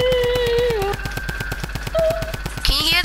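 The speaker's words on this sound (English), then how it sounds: "Can you hear the shots?" Rapid bursts of automatic gunfire from the video game Fortnite rattle off in a steady, repeating rhythm, loud and close, with game sound effects layered over the shots and no one speaking.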